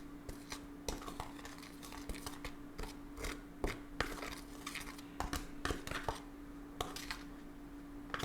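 Homemade siwak and tea tree toothpaste stirred in a small bowl, a run of irregular light clicks and scrapes of utensil against the container over a low steady hum.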